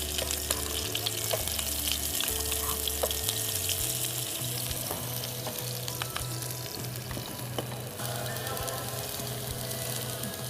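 Two medium chopped onions fry in a pan for a prawn and Malabar spinach dish, giving a dense, steady sizzle with occasional clinks and a low hum underneath.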